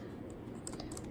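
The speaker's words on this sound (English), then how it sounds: "you type in your activities" Quick light keystrokes on a computer keyboard, a brief soft run of clicks over a low background hum.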